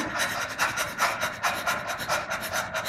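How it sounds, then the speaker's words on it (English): A person pants in quick, steady breaths during a vocal warm-up breathing drill. Close, rhythmic bursts of breathy noise repeat at about two or three per second with no talking. "Let's hear you pant"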